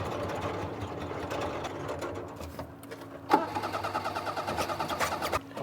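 A car engine abandoned for two years and suspected of a gummed-up carburetor cranks in rapid mechanical chugs, pauses briefly, then resumes a fast rhythmic cranking, close and moderately loud with no speech.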